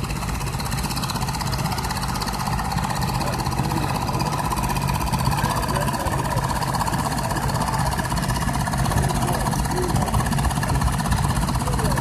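A 1974 International Harvester 444 tractor, American-built, idles during a tractor parade at the Sheffield steam rally, giving a steady, continuous engine rumble with no change in pace.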